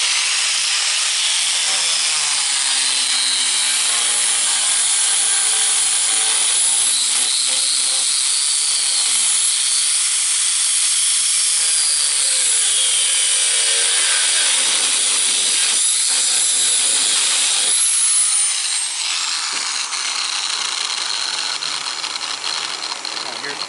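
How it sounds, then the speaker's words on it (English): An angle grinder cuts a steel brake shoe with brake lining out at a farm show, a loud, steady high-pitched whine and hiss that holds for over twenty seconds before easing slightly near the end. "I'm using one of these grinders to cut it out."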